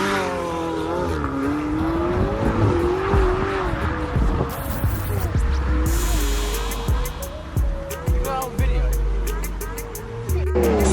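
A Lamborghini supercar revs hard and skids, with rising engine pitch, squealing tires and sharp thuds and bangs, loud and close, while excited voices shout over the commotion.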